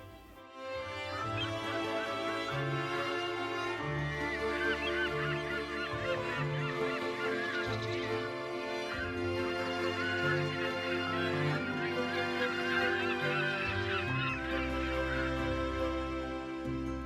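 Geese honking on and off while being fed beside the marina at La Rochelle, a loud, close chorus of repeated nasal calls over a continuous background.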